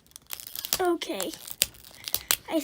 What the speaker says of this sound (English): I think I just have to keep unwrapping this LOL.